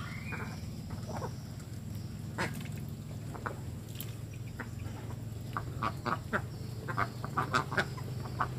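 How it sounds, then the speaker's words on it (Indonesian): Ducks gather at a water bucket in a tarp-covered pen, giving scattered, fairly soft quacks and splashy dabbling over a constant low background hum, with the calls growing busier toward the end. "bebek tetap tahu kemana harus mencari tempat minumnya"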